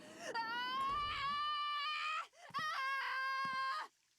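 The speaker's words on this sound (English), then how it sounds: "there is about to be a lot of screaming that is incredibly irritating" Loud, shrill screaming and wailing from a character in the Nancy Drew: Danger By Design video game, two sustained piercing cries with a brief break between them, close and unbroken by talk.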